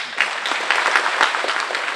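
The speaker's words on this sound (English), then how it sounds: "Y'all give Mom a round of applause." An audience at a hometown welcome for a returning sheriff's deputy gives a round of applause, a dense burst of many hands clapping that rises quickly and holds steady.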